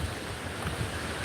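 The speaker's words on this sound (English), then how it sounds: "the wind getting stronger now" Strong outdoor wind blows in a steady, broad roar that buffets the microphone, with no clear gusts or pauses and no voices.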